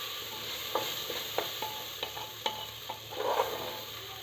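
Rice fries in ghee inside a pressure cooker for khichdi, a constant sizzle broken by a series of sharp scraping clicks as a spoon stirs it, close up and without speech.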